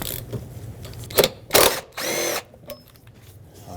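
A power tool zips out a T50 Torx seat belt bolt on a Dodge Grand Caravan in a few short, loud whirring bursts, separated by clicks and brief pauses.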